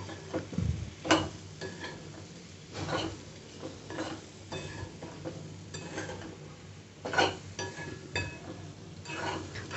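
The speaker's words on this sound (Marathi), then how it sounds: "एक मिनिट चांगलं कढईमध्ये हे चांगलं परतून घ्यायचं फोडणीमध्ये कैरीच्या फोडी" Raw mango pieces stir-fried in a spiced tempering in a wok (kadhai): a faint background sizzle with repeated scraping strokes and light metallic clinks of the spatula at an uneven rhythm, no voices.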